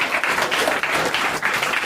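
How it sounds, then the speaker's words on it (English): Steady, dense audience applause with no gaps, filling a short stretch at a live hardware talk by Dave Appleton, moderately loud and close. "Let's have a big round of applause"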